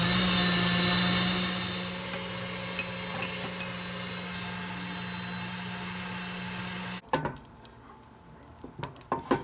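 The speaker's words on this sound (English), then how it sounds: "I'm going to go ahead and start the mixer on high" Electric mixer whirring on high while whipping egg whites, a loud steady hum for about seven seconds that then cuts off, leaving clattering knocks and handling noises.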